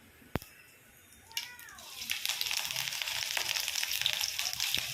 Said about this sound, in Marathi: तेल गरम होत आहे. त्यानंतर जिरं टाकलेले आहे. जिऱ्याचा आवाज येतच असेल तुम्हाला.